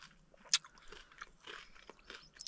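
Cinnamon roll granola with oat milk powder being eaten outdoors on a Highlands trek, soft close crunching and chewing in irregular bites with one sharper crunch, faint and with no talking.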